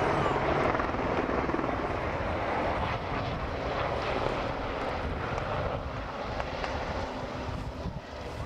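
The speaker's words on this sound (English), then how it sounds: "we can see the Sea King helicopters from the Commando Helicopter Force" Royal Navy Sea King helicopters thudding and droning continuously overhead at Yeovilton Air Day, a loud, steady rotor roar that eases slightly toward the end.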